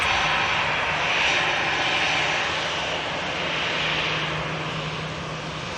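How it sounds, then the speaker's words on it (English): A Lufthansa Airbus A380 airliner drones steadily overhead, a broad continuous engine roar that swells slightly and then begins to fade, with no voices. "It's a Lufthansa 380 going from Washington to Munich."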